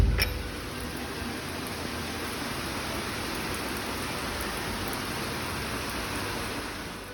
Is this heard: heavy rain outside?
yes